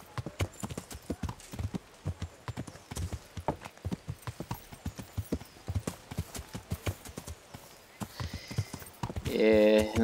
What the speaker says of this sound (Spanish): El caballo de Ratchik está aquí